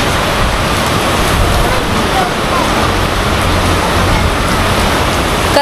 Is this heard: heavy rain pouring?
yes